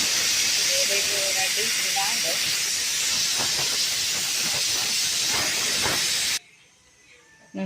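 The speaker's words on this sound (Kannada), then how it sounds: "ತುಲೆ ಕುಕ್ಕರ್ದ ವಿಜಿಲ್ ಪೋಂಡು" A pressure cooker whistles out steam while veg pulao cooks, a loud continuous hiss running steadily for several seconds, then cutting off abruptly into near quiet.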